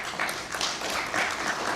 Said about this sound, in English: I request that we clap for the government of Japan for giving us that opportunity